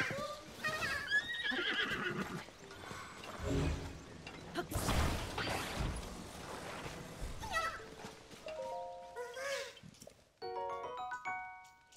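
A horse in Zelda: Tears of the Kingdom gives a loud close whinny alongside hoof clops, whooshes and game chimes, while someone talks throughout.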